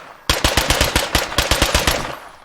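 An AK-style rifle with a big scope fires in State of Decay 2, a rapid burst of about a dozen sharp, loud shots in close, even succession that fades briefly after the last round.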